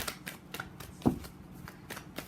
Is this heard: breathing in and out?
no